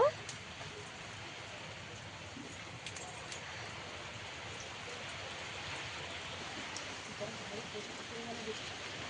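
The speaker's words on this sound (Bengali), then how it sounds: "এখন একটু অল্প অল্প বৃষ্টি পড়ছে" Light rain falls steadily outdoors, a soft continuous patter that stays even and low in level throughout, with no voices over it.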